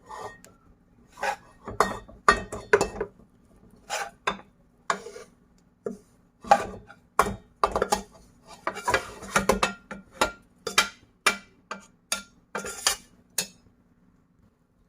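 A utensil stirs ingredients into melted jaggery in a pan for Sindhi gud laddu, making repeated metallic scrapes and clinks in an uneven rhythm, close and clear with no talking.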